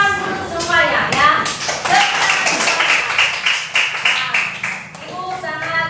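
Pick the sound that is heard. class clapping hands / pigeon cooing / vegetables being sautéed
class clapping hands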